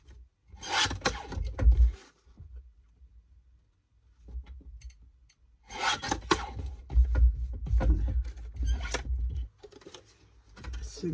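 Cutting a small cardboard box, with two bursts of rasping, scraping cuts separated by a quiet pause, close and fairly soft.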